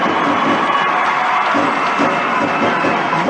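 Ice hockey crowd at a Fife Flyers home rink cheering after a fight, a steady roar of many voices filling the arena with no pauses, loud and continuous throughout.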